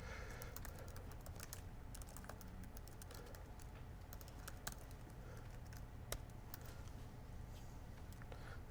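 Brisk typing on a computer keyboard, a steady patter of light key clicks with occasional sharper taps, faint and continuous throughout.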